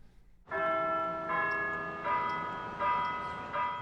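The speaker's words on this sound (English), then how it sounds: "For whom does the bell toll?" A church bell tolls on the campus of Shaw University, one of the first historically Black colleges. Four resonant strikes land roughly every three-quarters of a second, each ringing out with a long, humming tail.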